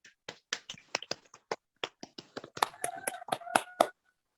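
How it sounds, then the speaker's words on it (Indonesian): A small classroom group applauds after a sociodrama performance: scattered, crisp handclaps at an uneven pace that thicken into a brief flurry before stopping, fairly quiet and close. "Tepuk tangan"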